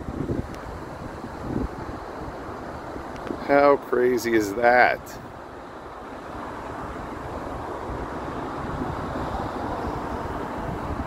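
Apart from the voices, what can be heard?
water pouring over canal locks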